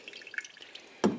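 Seedy tomato pulp water dumped into a pot of pasta sauce, heard as a single loud, close splash and slosh after a second of faint drips and quiet room noise.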